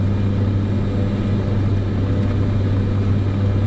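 An aircraft engine in Microsoft Flight Simulator 2024 drones loudly and steadily during the takeoff climb, a constant low hum with a deep tonal roar and no break.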